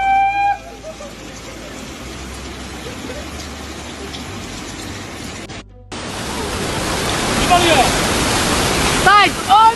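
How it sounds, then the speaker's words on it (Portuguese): Rushing river swollen by heavy rain in a flood in northeastern Brazil, a loud continuous roar of turbulent water that swells louder partway through, with a brief gap and someone shouting over it. "Muita chuva, muita água."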